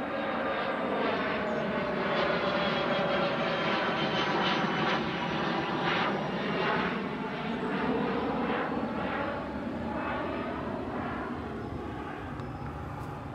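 A loud airplane from Gamston airport roars steadily overhead at Grove Road level crossing, its broad engine drone swelling and wavering for the whole stretch with no other sounds.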